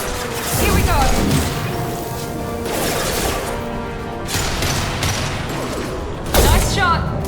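Gunfire in the video game Mass Effect 2, a few sharp loud shots with crashing impacts spread across a busy game soundscape, with someone talking over it.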